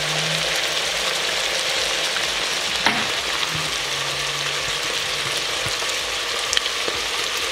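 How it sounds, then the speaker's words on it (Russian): Hare meat sizzles and crackles steadily in a hot pot, with occasional scrapes and knocks from a utensil against the metal. "обжарим зайчатину до румяного состояния"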